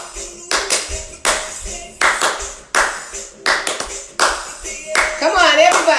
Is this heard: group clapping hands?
yes